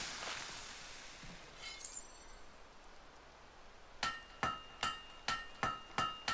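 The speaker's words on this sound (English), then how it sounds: "Great hammer work there." Hammer strikes ringing on a blade at a forge in the video game Fable 3: after quiet ambience and a few faint clinks, a run of about seven sharp metallic clangs lands in steady rhythm, each with a brief ring.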